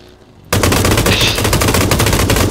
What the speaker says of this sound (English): He's shooting at me pretty bad.